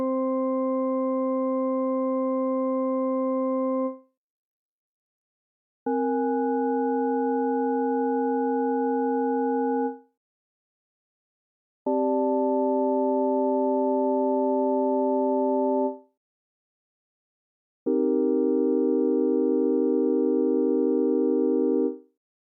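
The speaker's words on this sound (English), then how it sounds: "different chords played with a very simple sound which create different levels of roughness" Four successive chords built from simple pure sine tones, each held about four seconds with short silences between, steady and clean, with the last chord denser and carrying a faint beating roughness.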